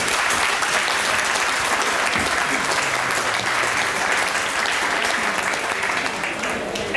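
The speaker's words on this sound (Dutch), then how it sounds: "ik wil sowieso een hartelijk applaus nu voor jezelf en voor alle sponsoren die hier vandaag aanwezig zijn" A crowd gives steady, dense applause for sponsors at the opening of an ice rink, a loud continuous wash of clapping that holds evenly throughout.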